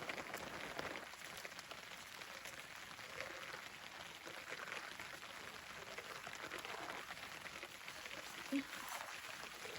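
Rain falls steadily in a hillside forest during mushroom picking, a dense continuous hiss of drops on leaves and surfaces that runs evenly throughout at moderate loudness.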